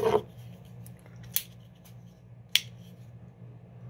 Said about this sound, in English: gonna use my knife, cut my string off, set it aside.